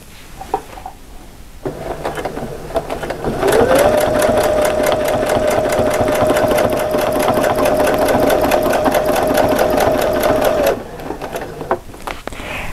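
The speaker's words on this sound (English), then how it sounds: "I'm going to stitch absolutely perfectly on the top of my previous stitching." A sewing machine stitches a quilt along a ruler template, with a few handling clicks, then a loud, steady rapid whirring hum that runs for about seven seconds before stopping, followed by quieter handling sounds.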